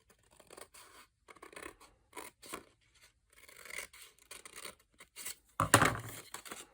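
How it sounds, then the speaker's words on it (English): Scissors snip through paper card for a Christmas pop-up card, giving a series of short, close cutting strokes with brief pauses between, then one louder crisp cut near the end, and no talk. "We're going to cut up to the horizontal line and cut out a little triangle on each side."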